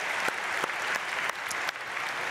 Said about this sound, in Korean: 네, 유치원생들 박수로 축복하겠습니다.